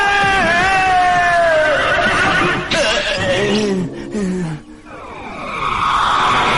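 A cartoon horse in an animated Hindi-dubbed series gives a loud, close whinny that wavers and falls in pitch, followed by more shrill animal calls and effects.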